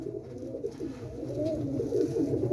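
Young pigeons on a roof produce a steady, continuous low cooing murmur from several birds at once, moderately close with no talk.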